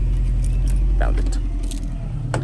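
House keys jangling up close in quick metallic clinks, with a car engine idling underneath and a brief voice in the background.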